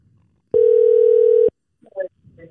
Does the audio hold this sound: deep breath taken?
no